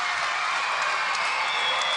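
A home crowd applauds at a women's beach volleyball world championship match in Rotterdam, producing a steady, dense wash of clapping with faint cheering that holds evenly throughout.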